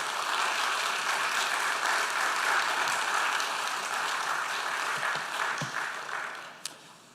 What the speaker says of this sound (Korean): 우리 큰 박수로 격려드리겠습니다